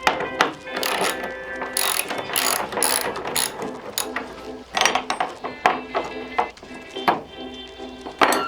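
A ratchet fitted with a special size 10 XZN bit loosens tie-down cups on a van floor, giving repeated close, loud bursts of clicking pawl ticks with short pauses between turns.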